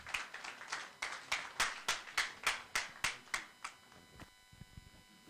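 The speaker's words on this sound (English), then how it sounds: "A round of applause for Dr. Linus Okole." About fourteen sharp, evenly spaced claps come from a live event, a round of applause for a speaker, loud and close at first, then thinning into a few scattered faint claps.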